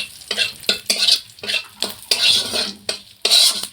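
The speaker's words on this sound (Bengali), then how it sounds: "ফোড়নটা কয়েক সেকেন্ড একটু ভেজে নিচ্ছি।" Whole cumin, a bay leaf and a dried red chili fry in oil in a pan for a Bengali egg curry, heard as a close sizzle punctuated by repeated quick scraping stirs of a spoon against the metal.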